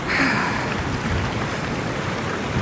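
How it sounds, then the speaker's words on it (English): Sea wind and heavy pouring rain on the Isle of Man coast make a dense, steady hiss and roar, with a brief gust near the start and no voices. "sea breeze combined with pouring rain"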